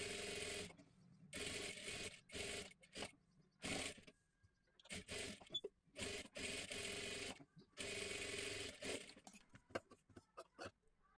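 A sewing machine stitches the full back seam of a blouse lining in repeated bursts of rapid whirring, stopping and starting, close and steady with short pauses between runs.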